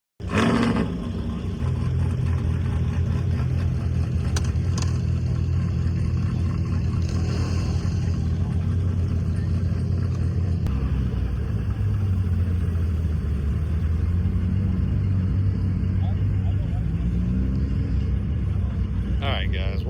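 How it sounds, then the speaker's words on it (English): A C4 Corvette's engine rumbles in a deep, continuous roar at close range, swelling and easing slightly, with people talking over it throughout. "It's a C4 Corvette."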